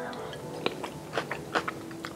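Close-up crunchy chewing of roasted onion, with irregular crisp bites and munches over a faint background hum.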